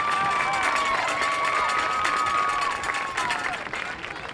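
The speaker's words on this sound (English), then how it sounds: "Once again, a round of applause for Casey Dippre." A crowd at a high school homecoming crowning during a football game applauds, with sustained clapping and high-pitched shouts and cheers ringing over the steady noise before it starts to fade.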